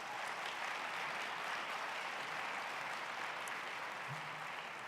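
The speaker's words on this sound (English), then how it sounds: "Let's give them a big round of applause." An audience at a transportation expo general session claps steadily in a broad, even round of applause, faint and somewhat distant, with no one speaking.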